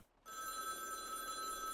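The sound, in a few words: telephone ringing in the video game You Are The Judge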